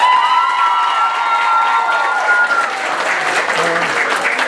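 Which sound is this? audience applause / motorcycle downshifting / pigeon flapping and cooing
audience applause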